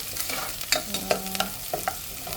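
Food sizzles quietly in a pan while a utensil stirs it, giving soft scraping strokes and a few light clinks at an uneven pace over a low, steady frying hiss.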